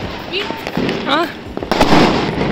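Diwali night fireworks and firecrackers seen from a terrace, heard as scattered pops and crackles with whistling rockets rising over steady background noise, mixed with nearby voices.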